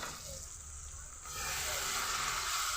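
Mutton curry with chili powder sizzles and hisses steadily as it is stirred in a hot pan, the frying noise growing louder and fuller partway through, with no talking.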